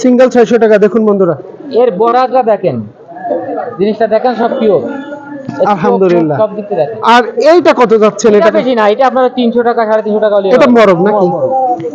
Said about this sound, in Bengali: এটা মরক কবুতর দেখুন